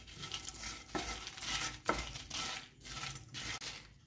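Dried prawns and dried red chillies roasting dry in a pan on low flame, a steady scraping and rustling from stirring with soft crackles, close and continuous for a few seconds with no voices.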